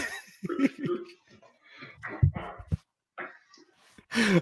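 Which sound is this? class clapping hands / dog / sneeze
dog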